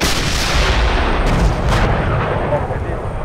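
Main gun of an M1A1 tank firing in the Steel Beasts simulation game, a dense, loud booming rumble with heavy low-end blast and reverberant noise filling the whole span, no pause.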